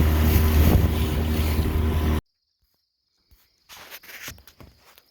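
A boat's Pro Control trolling motor runs on open water, a loud steady drone with wind buffeting for about two seconds, then cutting to near silence followed by faint scattered knocks and rustles.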